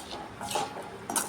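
A spoon scrapes and clinks against a pan as a tangy potato fry with a little added water is stirred, a few quick close metallic strokes.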